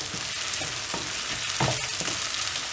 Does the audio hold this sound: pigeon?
no